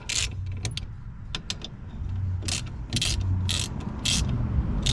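A ratchet clicks in quick bursts, close and loud, as bolts are tightened to push the rear brake drum off a 1998 Honda Civic hatchback, with a low mechanical hum underneath.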